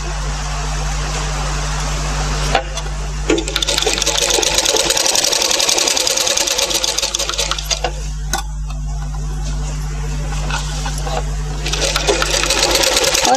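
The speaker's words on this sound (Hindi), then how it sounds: "फिर बाद में मशीन की सिलाई आप डाल दीजिए" An electric sewing machine stitches piping onto a garment neckline with a close, rapid mechanical whir. It stops briefly and restarts several times in short bursts, with a low steady hum underneath.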